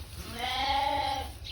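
Feeder lambs bleating on a farm, a single sustained wavering bleat rising and fading over about a second, fairly close with low rumbling background.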